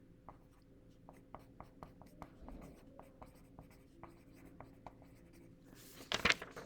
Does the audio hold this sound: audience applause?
no